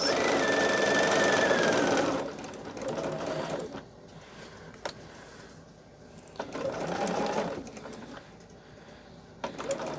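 A sewing machine stitches over nested quilt seams at a quarter-inch seam allowance, running in a loud, steady whir for about two seconds and then in shorter, softer bursts with pauses between them.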